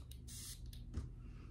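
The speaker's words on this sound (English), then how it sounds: "I'm just gonna spray it because it's a whole experience." Two quick hissing sprays of Desire 2 by Dua, a mango perfume, each a short airy burst, close and fairly soft over faint room noise.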